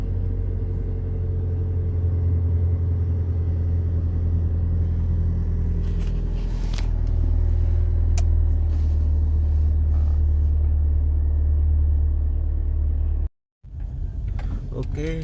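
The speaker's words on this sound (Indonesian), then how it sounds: "Nah, kita butuh panasin mobil dulu" A car engine idles steadily to warm up in the early morning, a constant low hum that grows slightly fuller midway, with faint voices and small clicks over it before a brief cutout near the end.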